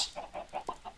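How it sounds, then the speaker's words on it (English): Bred chickens in a Minecraft Feed The Beast room cluck in a quick, regular series of short clucks, fairly close and clear, with no talking over them. "I hear the chickens."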